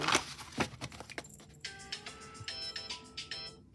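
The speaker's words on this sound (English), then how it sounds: "every time I turn around, my phone going off" A phone's electronic ringtone plays a repeating tonal melody, fairly faint, after a few soft clicks and rustles.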